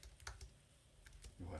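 Taps on an iPhone's on-screen keyboard, a few soft clicks spaced irregularly over a quiet room with a low hum, ending in a louder rumble.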